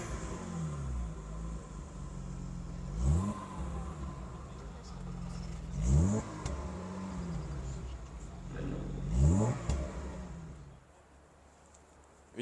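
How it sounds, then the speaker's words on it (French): A BMW being started and revved at a car meet in Lille, giving three sharp rev bursts that rise and fall over a steady idle, with the engine close and loud and crowd noise around it. "Le jeune conducteur qui vient de démarrer sa BM."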